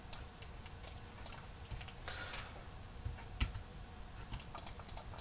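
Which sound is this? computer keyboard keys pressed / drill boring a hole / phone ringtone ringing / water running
computer keyboard keys pressed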